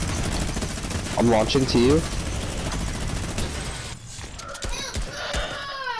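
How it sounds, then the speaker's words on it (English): Brutus minigun fire in Fortnite, a rapid dense burst of gunfire heard mixed with game effects while players talk over it. "I'm Brutus minigunning it."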